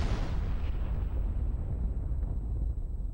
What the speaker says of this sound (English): a giant freaky bomb drops down